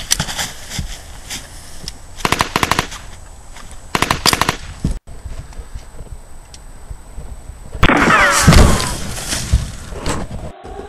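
Battle-scene gunfire: rapid bursts of machine gun fire and single gunshots, loud and close, in repeated volleys with a heavier blast near the end.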